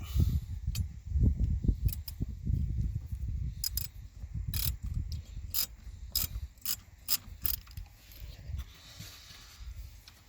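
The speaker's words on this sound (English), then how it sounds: "I'm using a Torx in the wrench" Ratcheting wrench with a Torx bit working on a seat motor bolt in a 2008 Ford Edge, sharp ratchet clicks coming in quick irregular bursts over low rustling and knocking.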